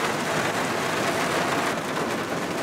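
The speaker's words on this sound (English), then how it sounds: "Unfortunately, it started raining." Heavy rain pours down steadily over an outdoor basketball game, a dense, even hiss that fills the whole clip at moderate loudness with no voices.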